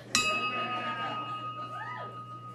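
A single bright bell strike rings on stage during a comedy act, then fades in a long, faint, shimmering decay with no talking over it.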